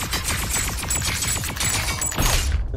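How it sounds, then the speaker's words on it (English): Rapid, dense bursts of gunfire from a video game, with repeated sharp reports packed closely together for nearly three seconds and no talk. "Somebody got a shotgun in here?"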